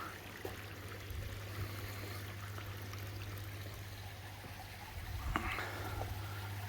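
Steady, soft rush of running water, like a small waterfall splashing into a pond, with a low hum beneath and a brief clatter near the end.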